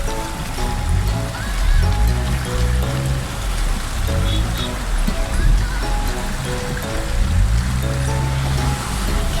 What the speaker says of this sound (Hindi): पानी बहुत तेज है